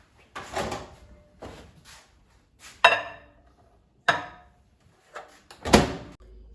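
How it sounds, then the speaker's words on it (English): A microwave door and glass dish are handled in a kitchen, with a few separate sharp clunks and bumps spaced over several seconds, close and moderately loud. "And put the baked apples in the microwave."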